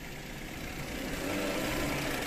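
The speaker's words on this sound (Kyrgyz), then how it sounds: "Мотор өтө сонун иштейт экен." A used car's engine idles with the hood open, a steady mid-low running drone that holds even and close throughout with no speech over it.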